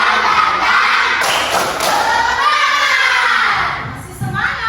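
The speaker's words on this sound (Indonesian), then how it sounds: "Tepuk semangat." A class of children claps a loud, rhythmic spirit clap in a classroom, with thumping beats and shouting voices mixed in, ending in a short burst of cries.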